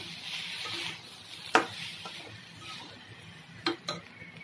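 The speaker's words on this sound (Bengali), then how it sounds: "মৌরি আমি একটু গুঁড়ো করে নিয়েছি ভেজে, ওটাকে আমি ঢেলে দিচ্ছি। এটাকে আমি নাড়তে থাকবো।" Mango pickle with ground roasted fennel and cumin stirred in a pan over a low flame, a soft background sizzle broken by a few sharp scrapes and clinks of the spoon.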